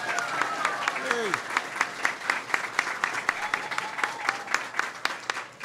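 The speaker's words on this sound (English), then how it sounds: "Give him a big round of applause." Embassy staff in Cuba applaud an introduced guest: brisk, steady clapping from an indoor crowd, with a short voice and a few cheers mixed in near the start.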